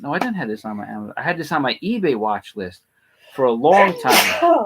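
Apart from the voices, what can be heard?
person sneezing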